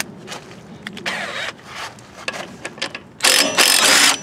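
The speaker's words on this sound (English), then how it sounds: "They got a small impact here that might do it for us." A small impact wrench loosens a bolt on a Craftsman YT4500 lawn tractor, giving a few short rattling bursts and a final longer loud hammering run close up.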